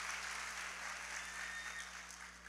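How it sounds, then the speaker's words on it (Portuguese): An audience applauds at a church conference session, a steady wash of clapping from many hands that holds at an even level throughout with no voices over it. "Um aplauso para minha esposa."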